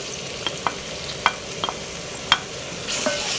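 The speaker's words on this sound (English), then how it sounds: "Stir the mix for a few seconds" A mushroom mixture is stirred in a pan: a faint low sizzle underneath a handful of scattered light taps and scrapes from the utensil, with a brief louder swish at the end.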